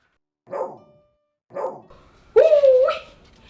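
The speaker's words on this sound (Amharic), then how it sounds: "ውሻው ደግሞ ይጮሃል" Two sharp dog barks a second apart, then a louder, drawn-out whining yelp, close by with no one talking.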